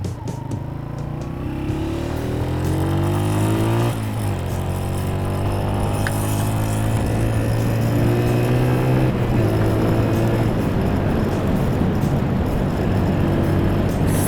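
A Honda CG 125 SE motorcycle rides along a scenic hill road, its single-cylinder engine droning loud and close as it accelerates through rising revs and gear changes, with wind rushing past.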